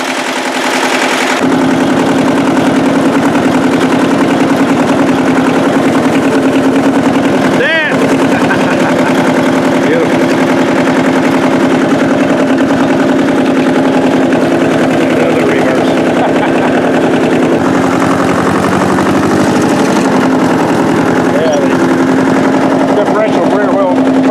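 Vehicle engine straining as its front pusher plate shoves a worm sled off a tree, a loud continuous rough mechanical drone with a clattering texture held close for the whole stretch, with a brief dip partway through.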